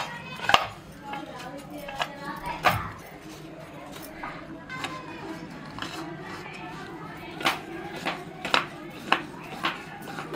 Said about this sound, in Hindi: यहाँ 250 ग्राम हम गुड़ लिए हैं। इस तरीके से छोटा छोटा हम काट लेंगे